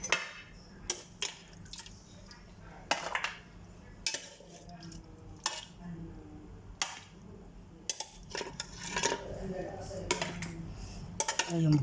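Humba, braised pork, is shifted into a wok, bringing loud clattering and scraping of a utensil on metal with wet, saucy slops. The bursts come irregularly, with a voice now and then in the background.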